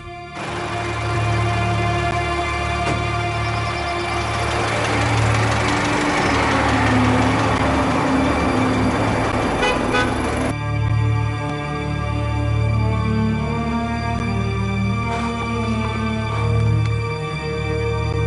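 An old car's engine runs steadily on a trip through town, a continuous low hum with a brighter mechanical rasp swelling in the middle and easing off, with no voices.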